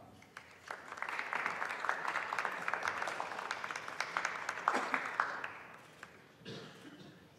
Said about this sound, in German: Könnten wir bitte Applaus für sie haben?